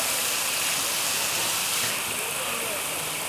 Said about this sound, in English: Just keep stirring so the tripe gets the flavor of the olive oil.